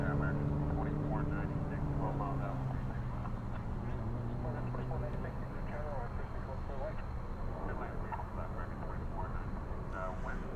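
A distant airplane at DFW airport at night gives a steady, low engine rumble with a constant droning hum, while voices and background chatter carry on over it.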